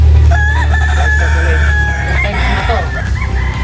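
A gamefowl rooster crows loud and close on a backyard farm, one long drawn-out call with a wavering tail, over constant low rumble and faint background clucking and voices.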